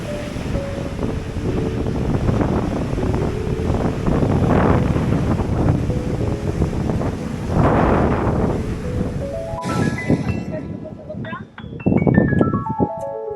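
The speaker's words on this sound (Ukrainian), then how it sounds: "Ох ти що, які тут хвилі." Strong wind roaring across the microphone with surging Atlantic waves on the Madeira coast underneath, continuous and loud, with occasional voices briefly audible.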